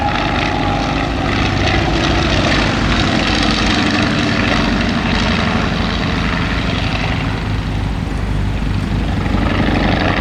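A WWI Fokker triplane, a propeller aircraft, makes a low pass at an airshow at Old Rhinebeck Aerodrome, its engine drone loud and continuous, swelling and easing slightly as it flies by, without talk.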